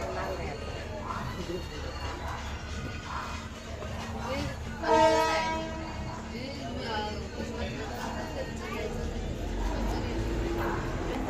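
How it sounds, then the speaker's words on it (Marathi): The Diva passenger train pulls out of Ratnagiri, its carriages rumbling steadily with a brief horn blast in the middle, heard from on board under a speaking voice. "दिवा पॅसेंजर ट्रेन सुटलेली आहे रेल्वे रत्नागिरीवरून"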